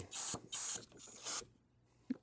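Short hissing bursts of aerosol spray go into the fuel system of a dead lawn mower, three close spurts followed by quiet and a small click.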